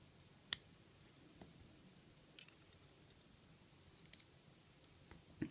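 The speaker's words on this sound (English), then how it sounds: "I'll cut off the ends just to clean it up a little bit" Small cutters snip the excess ends of kanthal coil wire on a vape build, making a few faint, sharp clicks spaced apart in a quiet room.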